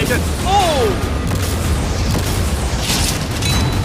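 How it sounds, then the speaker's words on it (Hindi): Cannons firing and smashing through storage containers on a yacht, heavy booming blasts and crashing debris, loud and continuous, with a voice briefly heard near the start. "वो कैनन ऐसे आर पार हो रहे हैं जैसे वो बटर हो।"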